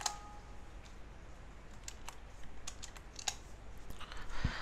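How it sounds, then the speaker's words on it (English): Someone types a password on a computer keyboard while setting up a Linux Ubuntu server, giving a few faint, scattered key clicks over a quiet background. "type in my password and let that do it"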